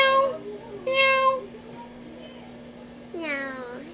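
A voice imitates a cat, giving three drawn-out meows spaced across a few seconds, close and clear over a steady background hum.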